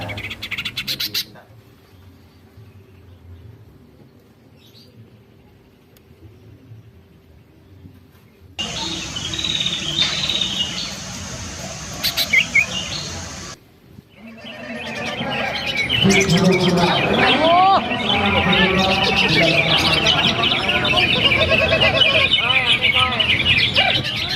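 Green leafbird (cucak ijo) flying free in an aviary, giving bright chirps and varied song phrases that grow dense and loud in the later part, with stretches of quiet and someone talking in between.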